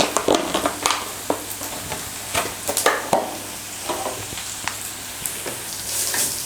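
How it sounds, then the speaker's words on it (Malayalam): Shallots and grated coconut sauté in an oil-filled pan for a Kerala mathanga vanpayar curry, giving a light steady sizzle broken by sharp spatula scrapes and taps, close up, with no voices. "ഇനി നമ്മുടെ ഈ കൊച്ചുള്ളി ഒന്ന് ബ്രൗൺ നിറം ആകുന്ന വരെ ഇത് വഴറ്റണം"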